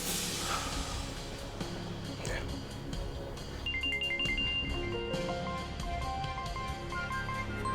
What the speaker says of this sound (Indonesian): boleh saya izin angkat telepon?